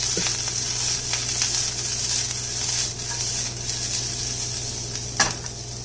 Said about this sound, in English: So I'm going to let that saute for a little bit